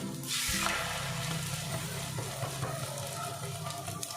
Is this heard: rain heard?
no